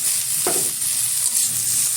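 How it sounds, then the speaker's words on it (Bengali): Washed shrimp drop into a wok of frying onion and chili, a loud, constant close sizzle with a brief soft splash as they go in. "এখন দিয়ে দিচ্ছি এর মধ্যে ধুয়ে রাখা চিংড়ি মাছ"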